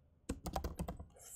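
A quick run of about half a dozen soft, close keystrokes on a computer keyboard while coding, irregularly spaced and faint, in an otherwise quiet room.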